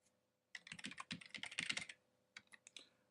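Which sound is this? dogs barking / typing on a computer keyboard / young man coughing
typing on a computer keyboard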